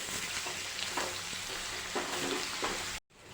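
Spiced potato masala dosa filling stirred in a pan, with a steady soft sizzle and a few scraping strokes of the spoon, close and continuous, cutting off briefly near the end.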